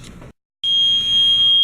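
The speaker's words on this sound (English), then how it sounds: "there's a fire alarm" A piercing fire alarm tone starts abruptly after a brief gap, holding steady and loud, with muffled room noise before it.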